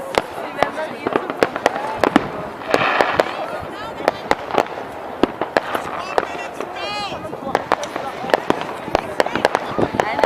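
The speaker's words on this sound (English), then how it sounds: "You see that it's like more and more fireworks every day." New Year's Eve fireworks in Vienna crackle and bang in repeated sharp bursts of varying loudness, some near and some farther off, under a busy crowd with people talking and cheering.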